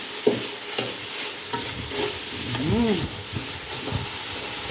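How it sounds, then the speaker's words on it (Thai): Green curry being stir-fried in thin coconut milk in a large pot in a Thai kitchen, a steady close sizzle and hiss with stirring scrapes throughout, plus a brief tonal squeak near the middle. "มาเราผัดด้วยหางกะทิก่อนนะน้ำแกงด้วยหางกะทิก่อนนะคะ"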